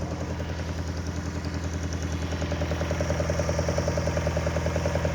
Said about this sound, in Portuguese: O motor ele tá esquentando ainda.